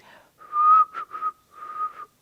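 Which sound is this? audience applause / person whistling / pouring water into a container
person whistling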